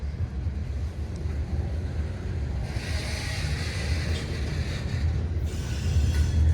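A long, slow freight train of gondola cars, including an Illinois Central gondola, rolls past on the Swanton Subdivision with a steady low rumble and rising wheel and rail noise, close and continuous.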